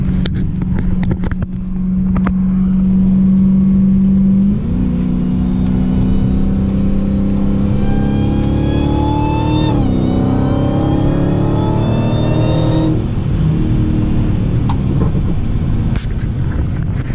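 A 2017 Dodge Challenger Hellcat with 700 horsepower accelerates hard to pass on a road, its loud engine droning low, then climbing in pitch through rising revs with gear changes, heard close from inside.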